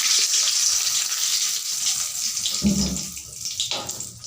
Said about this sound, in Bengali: তেল গরম হয়ে গেছে আমি এখন ফোড়ন দিয়ে দিচ্ছি দুটো তেজপাতা